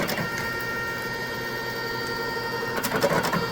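A wire processing machine cuts and strips wire lengths for an OBR Control Systems 7.3 Godzilla harness, whirring and chattering steadily up close, with a busier burst of rapid mechanical clatter near the end.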